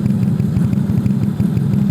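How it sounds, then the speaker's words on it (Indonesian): A Monkey Bobber custom motorcycle idles up close, its engine putting out a loud, steady low chugging pulse with no voices. "kita nyobain ini suara idle-nya si Monkey Bobber ya"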